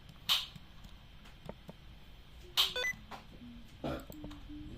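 Short electronic bleeps and tones from the video game Baldi's Basics, several spaced apart over a quiet background, with a few sharp bright hits among them.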